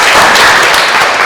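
A classroom group claps their hands together in a dense, continuous burst of applause lasting about a second, loud and close, with no talking.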